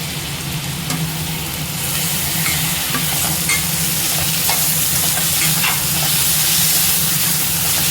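Tomatoes and curry leaves fry in a hot pan, a loud continuous sizzle and hiss with occasional stirring scrapes, alone and close.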